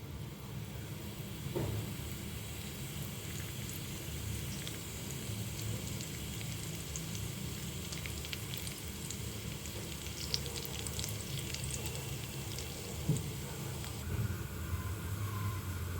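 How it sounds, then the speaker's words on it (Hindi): Cumin seeds crackle in a tablespoon of hot oil in a kadhai, giving a steady close sizzle with scattered small pops and ticks throughout, no voices. "देखिए जीरा तड़क गया"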